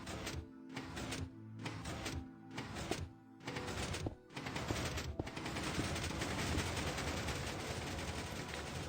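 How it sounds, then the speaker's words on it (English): Sticky pistons fire in Minecraft Bedrock 1.20 in a redstone dance-floor build: a rapid series of sharp mechanical clacks with short gaps, then a dense, continuous clatter, all fairly quiet and without speech. "as you see, it's going to trigger the pistons"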